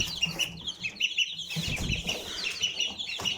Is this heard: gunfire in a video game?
no